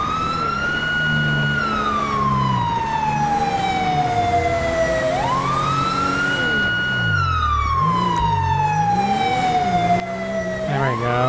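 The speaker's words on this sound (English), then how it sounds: "I like this siren for some reason." A retro police siren in the video game GTA V with the LSPDFR mod wails continuously, sweeping slowly up and down in pitch, loud and close, with an engine rumbling underneath.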